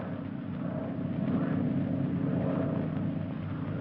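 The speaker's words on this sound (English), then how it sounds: "That plane is to pick you up." A propeller airplane engine drones overhead in a 1934 mystery film scene, a steady, continuous rumble holding at an even loudness throughout, with no voices over it.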